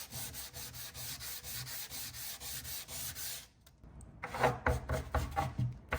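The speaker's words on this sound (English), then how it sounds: "And then I'm just gonna sand this with some sandpaper." Sandpaper rubs by hand over painted French Provincial-style furniture in quick, even strokes, then pauses briefly before resuming in harder, more irregular scrubbing.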